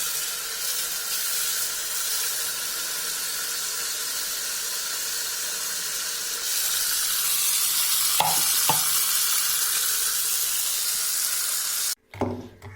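A low-pressure water spray washing the AC cooling coil of a Maruti 800, a steady close hiss that grows slightly louder partway through, with a few brief knocks and an abrupt stop near the end.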